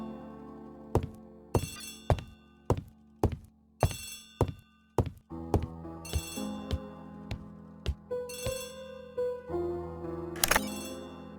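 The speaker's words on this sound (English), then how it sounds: "Poirot, the telephone." An old-fashioned telephone rings in a period English setting, sounding in repeated sharp bursts with short pauses between them and continuing for several seconds.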